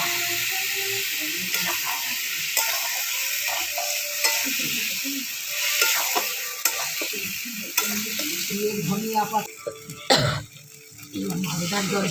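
Potato curry for aloor dum frying and being stirred in a pan, with a loud continuous sizzle, scraping strokes of a spatula, and a brief cough or throat clearing partway through.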